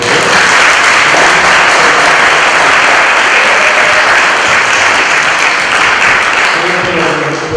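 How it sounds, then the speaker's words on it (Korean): A church congregation applauds during a Sunday worship service, loud dense clapping filling the room continuously for several seconds without a break. "우리 경례의 박수 치고"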